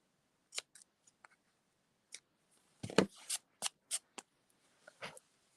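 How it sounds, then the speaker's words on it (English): Scissors snipping ribbon off a pop-up paper card: a series of quiet, close, crisp cuts and blade clicks in irregular bursts, with a brief rustle of paper in the middle. "Let's see if I can just cut part of this ribbon off."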